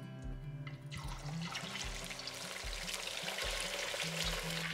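Pieces of fish sizzle and fry in a hot pan for a quick browning before a coconut fish curry, a bright continuous crackle over low bubbling and clinking from stirring.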